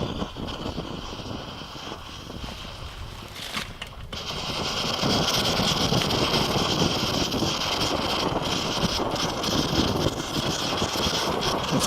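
An Optimus 8R white gas camping stove burns with a steady, close, breathy roar that swells noticeably louder partway through and then holds constant, with no voices.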